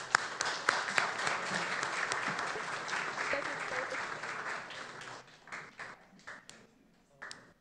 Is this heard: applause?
yes